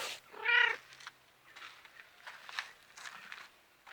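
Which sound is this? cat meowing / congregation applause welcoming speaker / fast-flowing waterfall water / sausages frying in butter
cat meowing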